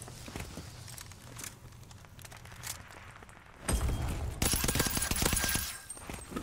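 Rapid bursts of video game gunfire crackle loudly in the second half, preceded by quieter footsteps and game ambience.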